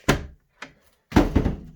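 A cupboard door bumping as it is pulled open: a sharp close thunk, a lighter knock, then a heavier knocking rattle, all loud and near, with no talking.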